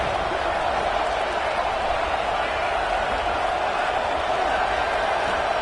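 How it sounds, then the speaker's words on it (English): A home stadium crowd roars in the college football video game College Football 26, a steady, dense wall of cheering that holds at an even level throughout. "this home crowd is fired up and ready to make a difference today"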